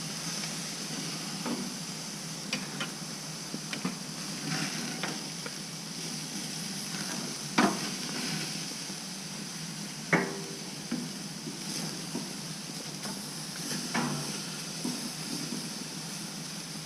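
Bacon-wrapped venison backstrap with brown sugar glaze sizzles steadily on a grill, a constant frying hiss broken by a few sharp pops and scrapes, close and alone with no talking.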